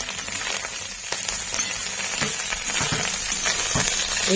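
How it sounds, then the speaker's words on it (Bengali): Freshwater snails frying in oil in a pan, a steady soft sizzle and crackle of popping oil throughout, with no talking. "গুগলিগুলো ভাজা হয়ে গেছে"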